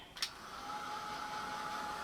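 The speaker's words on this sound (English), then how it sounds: "Just going to run the heat gun over it." A heat gun runs over a chipboard box with a quiet, steady blowing whir and a faint tonal hum, after a brief click at the start.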